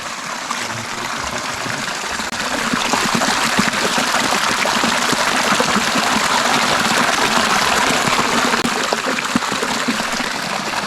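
Water flows steadily and loudly nearby, a continuous rushing wash with no pauses and no voices over it.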